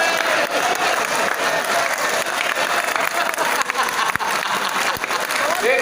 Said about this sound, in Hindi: एक बार पूरा सदन तालियों से गूंजे भाई।